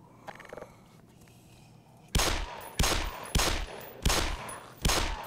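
Gunfire in the video game Black Mesa, five loud sharp bursts spaced about evenly after a quieter start with faint game sounds, each burst decaying quickly.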